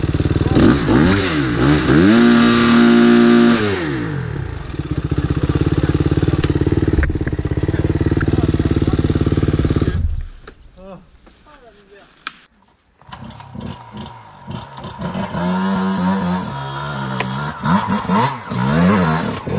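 Hard enduro motorcycle engine revving repeatedly on a trail ride, loud rising and falling throttle blips with a rough idle, cutting out briefly midway before revving again; people talk nearby.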